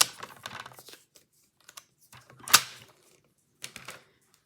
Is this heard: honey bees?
no